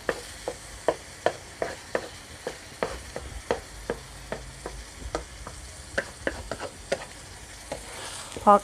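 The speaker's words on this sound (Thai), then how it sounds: "เราก็เอาหมูลงมาผัดใส่กับไข่เลย" Pork being stir-fried with egg in a pan over medium heat, with a soft continuous sizzle under a steady, regular series of close spatula taps and scrapes, and no talking.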